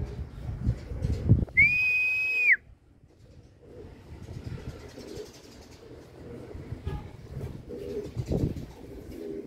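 A pigeon calls once with a bright, steady whistled note close by, followed by quiet outdoor background with faint rustling.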